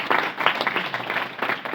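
Audience applause at a network marketing business talk, a burst of steady crowd clapping in a room, dense and moderately loud for the whole stretch, with a little talk beneath it.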